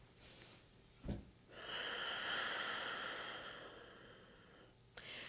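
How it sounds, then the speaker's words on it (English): Slow, audible ujjayi breathing during a yoga exercise of small pulsing movements, with one long drawn breath rushing through the throat, framed by a brief sharp intake before it and another soft one after, close and quiet. "Ujjayi breathing."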